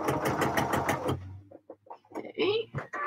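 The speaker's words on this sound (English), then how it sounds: "I have sewn my first line of stitching." A sewing machine stitches fabric in a quick, steady, close mechanical rhythm for about a second, then stops as a person starts speaking.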